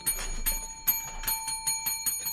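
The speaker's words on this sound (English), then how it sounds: "Ring the bell." A bell rings in quick bright strikes, about eight sharp metallic dings spaced irregularly with sustained ringing tones between them, loud and close.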